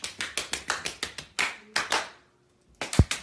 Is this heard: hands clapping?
yes